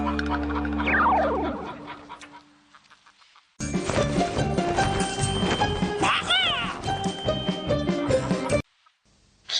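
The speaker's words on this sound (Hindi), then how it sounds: "ये मुर्गियाँ गहरी नींद सो रही हैं।" Cartoon chickens clucking and squawking in a busy burst after a sliding whistle effect, loud fowl calls layered with music and sound effects, then stopping abruptly.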